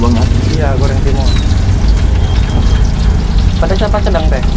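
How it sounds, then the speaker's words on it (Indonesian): Cimol tapioca balls frying in oil at a street food stall, a steady close sizzle and bubbling that runs throughout, with people talking over it. "Ini mau goreng cimol bang ya?"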